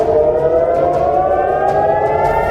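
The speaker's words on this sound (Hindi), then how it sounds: "सायरन बजने लगे" A loud, steady wail of a civil defense air raid siren in Israel drones continuously, its tone holding with slight wavering and a faint background hiss.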